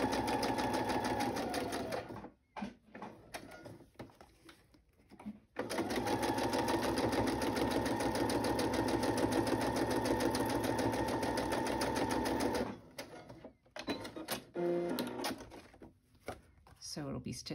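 A sewing machine stitches around the edge of a paper pocket in long steady runs, loud and close, with brief pauses and handling noises between bursts.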